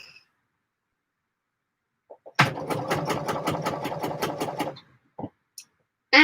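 A domestic sewing machine stitches in a steady rapid burst of about two and a half seconds, its regular mechanical clatter close and alone, then stops abruptly as the bobbin runs out, followed by a few faint clicks.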